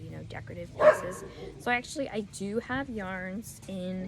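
A dog barks sharply once, then yips and whimpers several times nearby while a person keeps talking over it.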